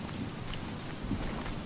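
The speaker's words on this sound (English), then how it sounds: "we're getting a lot of rain here" Steady heavy rain with rumbling thunder in the Stranded Deep survival game, a dense continuous wash of noise filling the short stretch without any voices.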